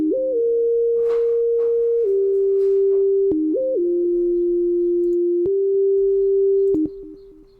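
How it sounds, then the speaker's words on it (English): A pure synthesized sine wave lead, made in Purity, plays a simple stepping melody of held electronic tones, clear and steady with faint percussion underneath, fading out at the end. "sine wave lead that I made in Purity."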